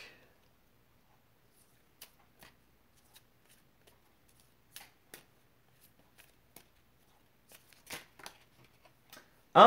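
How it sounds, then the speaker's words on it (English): Cards for the This War of Mine board game shuffled by hand, heard as a few faint, scattered riffles and soft flicks in near silence, ending with a sudden louder burst. "And this gets shuffled back."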